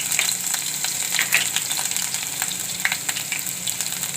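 Garlic and ginger hit a hot oiled pan with cumin already in it, giving a steady, close crackling sizzle with scattered sharp pops throughout.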